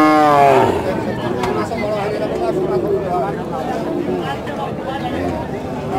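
Cattle at a rural livestock market in Kakan Haat, Rajshahi, with a cow's low moo opening loudly and close, then fading into a busy crowd of voices and chatter.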